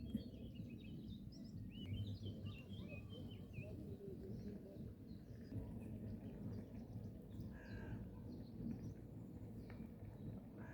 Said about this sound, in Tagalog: Pakinggan yung mga ibon kumaawit.